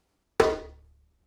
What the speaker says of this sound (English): that sound is produced called tone.